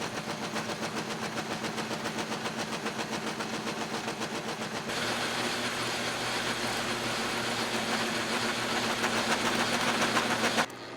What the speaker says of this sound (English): I swapped over to a nice sharp high-speed steel tool to take the last couple passes here